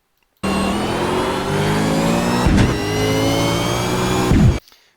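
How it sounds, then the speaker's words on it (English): A car accelerating hard on a race track, its engine note climbing steadily, then briefly dipping at an upshift to third before rising again, loud and close with no talking. "We're going to upshift to 3rd, and we're going to hold 3rd through the next corner."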